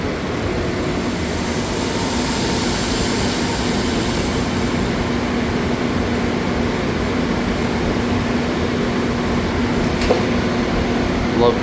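A TKE TAC32T Dover Computomatic traction elevator machine runs with a steady, loud hum and whir that holds evenly throughout, carrying a faint tonal drone, with no voices over it.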